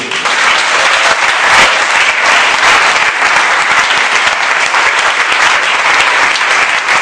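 A church congregation at a night vigil applauding and cheering for God, loud dense clapping from many hands sustained throughout, with faint voices mixed into the crowd.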